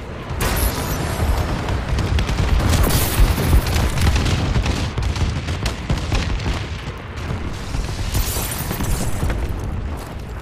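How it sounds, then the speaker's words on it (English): Continuous loud barrage of booming explosions from a friendly bombing run in Call of Duty: Advanced Warfare multiplayer, dense overlapping blasts and rumbling impacts with gunfire-like bursts throughout, no talk. "Friendly bombing run incoming."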